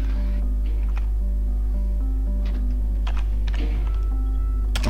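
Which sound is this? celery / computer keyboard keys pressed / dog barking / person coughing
computer keyboard keys pressed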